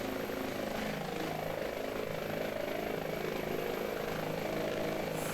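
A helicopter in Microsoft Flight Simulator 2020 during a winching operation, a steady loud rotor and engine drone running continuously with no talk.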